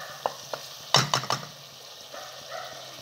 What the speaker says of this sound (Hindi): और टमाटर को भी 1-2 मिनट के लिए भून लेंगे